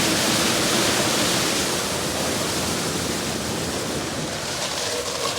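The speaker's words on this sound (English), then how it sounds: "It's probably just the wheel wash on the reverse part." A wheel wash on the reverse pass of an Istobal car wash runs with a constant, close rushing spray of water, broad and steady, easing a little toward the end.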